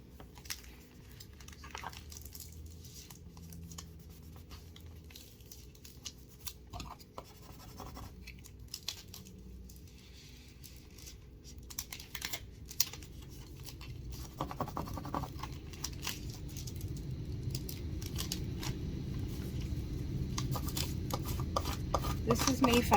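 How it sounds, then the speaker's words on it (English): Cricut vinyl transfer tape is burnished with firm rubbing strokes. The scraping is faint and intermittent at first, then grows louder and more continuous toward the end, with no speech. "it's Cricut transfer tape, so you have to burnish the crud out of it"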